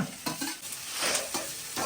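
Oil sizzling in a pan as spices are tempered and stirred, a steady hiss broken by a few clattering scrapes of a spoon.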